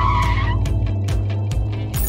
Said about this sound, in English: So look at this smooth drift.